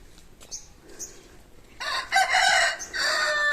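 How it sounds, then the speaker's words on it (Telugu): At a rural family home with native country chickens, a few soft clucks give way to a rooster crowing loudly and close by in a long, drawn-out call. "మీకు కోళ్ళు చూపిస్తాను అండి హే కోడిస్"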